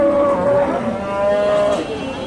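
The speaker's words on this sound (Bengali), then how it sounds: "এখানে সুন্দর একটা ফ্রিজিয়ান গরু দেখতেছি" A Friesian cow moos loudly and close by at a cattle market in Bogura, one long drawn-out low call with a slight rise near the end.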